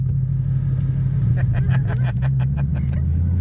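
A 2012 Ford Mustang Boss 302 V8 pulls in third gear with a deep, heavy low rumble, the engine note rising slightly as it accelerates, with bursts of voices talking over it inside the car.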